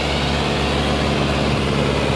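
Tractor engine fitted with a turbocharger running steadily under load, a loud, continuous low diesel drone with a harmonic throb that stays constant throughout, with no talking.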